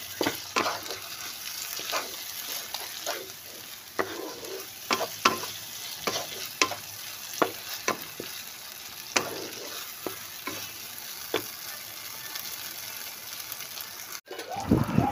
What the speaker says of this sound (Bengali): ভাজা পেঁয়াজের মধ্যে এবার আমি যে মশলাটি গুলে রেখেছিলাম সেটা এবার মিশিয়ে দেব।